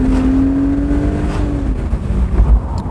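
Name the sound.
BMW Z3 3.0i car accelerating on kick-down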